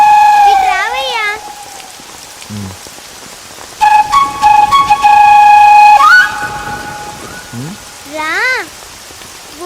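Rain falls in a steady patter during a Telugu film scene, mostly under whistling melodic tones, with a brief spoken word.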